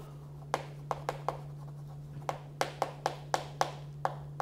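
Chalk or a marker taps and scrapes on a board during a math lesson, a dozen or so short, crisp strokes in an irregular rhythm, close and clear over a steady low electrical hum.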